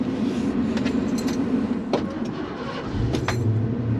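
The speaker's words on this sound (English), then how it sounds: "that 5-liter, I mean, it fires right up every single time" A 1988 Ford Mustang LX convertible with a 5.0L V8 cranks and fires up, a brief starter whir giving way to a steady, rumbling idle heard up close, with a few short clicks along the way.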